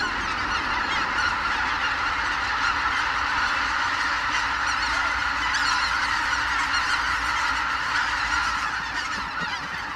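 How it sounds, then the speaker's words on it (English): A large flock of white-fronted geese wintering on unfrozen northern lakes after migrating from Arctic Asia, their honking a continuous, loud, overlapping chorus from many birds with no talk. "White-fronted geese, swans and ducks seek out the few northern lakes that will not completely freeze over."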